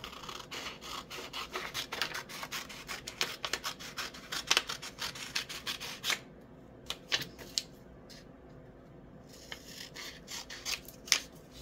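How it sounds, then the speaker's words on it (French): Scissors snip through a sheet of paper in a dense run of crisp cuts, then slower isolated snips after a short pause, close and fairly loud with no talking, while trimming a diamond painting code chart down to two columns. "je vais couper le papier pour faire en sorte de récupérer seulement ces deux colonnes là"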